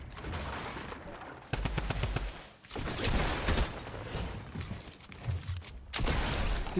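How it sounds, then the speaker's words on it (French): A Thompson submachine gun fires in Fortnite in loud, rapid bursts of close, rattling automatic fire, separated by short pauses and other game noise. "C'est quoi cette Thompson de fou là?"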